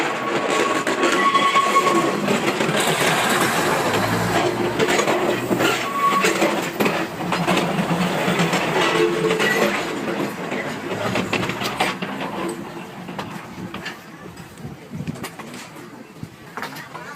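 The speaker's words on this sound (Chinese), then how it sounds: "不同国家的火车" A train passes through in Thailand, a steady loud rumble and rattle of rail cars lasting throughout, with pigeons audible nearby and the noise easing slightly toward the end.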